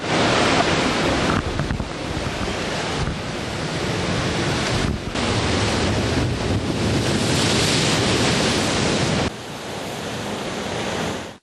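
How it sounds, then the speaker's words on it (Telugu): High sea waves crash continuously along the Uppada coast as a storm approaches, a loud, dense roar of surf mixed with buffeting wind on the microphone that never lets up. "ఉప్పాడ తీరం వద్ద అలలు ఉవ్వెత్తున ఎగిసిపడుతున్నాయి."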